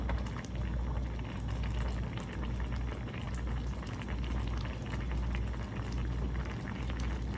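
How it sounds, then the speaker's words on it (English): A pot of Jamaican one-pot chicken and dumplings with pumpkin, corn, potato and okra boils steadily, squash set on top to steam, giving a continuous close bubbling and simmering with no talk. "My squash is going to be steamed."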